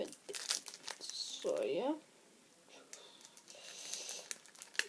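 Disney trading card pack wrapper crinkling and tearing as it is opened by hand, close and moderately loud, a sharp rip burst in the middle, with a person speaking intermittently throughout.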